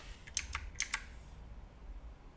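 A computer mouse clicks during SolidWorks modelling work, four quick crisp clicks in two close pairs, near and fairly quiet over a faint steady hum, with no talk.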